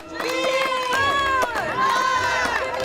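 A crowd cheers and shouts with excitement at a community event as a team finishes driving nails. Several high, overlapping voices whoop and yell loudly and continuously, with a few sharp knocks mixed in.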